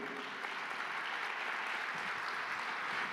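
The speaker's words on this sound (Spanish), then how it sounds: "¿Cuánto le dan un aplauso al Señor?" A church congregation at a Sunday service claps steadily, a dense wash of many hands applauding together for the whole stretch. The applause is fairly distant and even, with no break.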